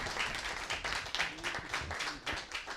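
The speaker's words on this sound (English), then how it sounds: "with a big round of applause" Applause from an audience at a speaking event in the USA, a broad, steady wash of clapping from many hands at moderate volume, with a few faint voices mixed in.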